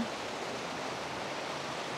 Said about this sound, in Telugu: ఇక్కడ ఎక్కడో పైనుంచి సెలయేర్లా వాటర్ పడుతుంది, ఆ సౌండ్ అయితే వినబడుతుంది.